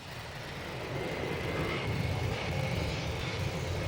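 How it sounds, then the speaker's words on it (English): Engines of an Antonov AN-74, a Ukrainian cargo transport with turbofans mounted on top of the wings, roar steadily at an air show, a broad continuous drone that swells slightly and holds with no voices over it. "It's the Antonov AN-74, a Ukrainian cargo carrier that's designed to operate from unprepared strips, hence the engines mounted on top of the wings"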